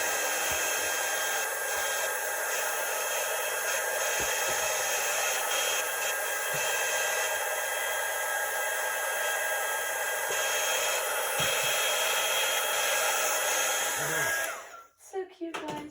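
A hair dryer blows on a chalk stencil laid sticky side up, a loud continuous whooshing hum that holds steady for most of the time before switching off abruptly.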